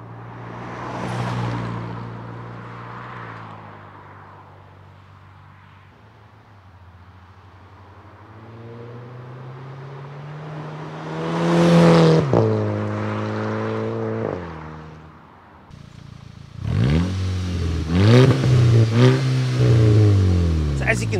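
A VW Eos 2.0 TSI drives past a roadside listener, its exhaust swelling and fading as it passes: a gentle first pass, a louder second, then a more aggressive burst of revving near the end.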